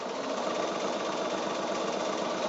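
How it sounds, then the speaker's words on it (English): A sewing machine runs steadily through a diagonal bias seam on quilt fabric, a continuous close mechanical whir with a fine rapid stitching pulse and no speech. "So now I'm back to the sewing machine, and I'm going to sew from this end right up to the point"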